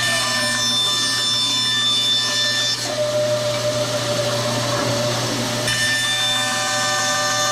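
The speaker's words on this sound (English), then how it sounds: "Just zoom, zoom, zoom. Very safe way to do it with a bandsaw." A bandsaw runs continuously while cutting thin wooden splines for spline joinery, a steady whining motor drone with a shift in pitch as the blade passes through the wood, close and loud with no talking.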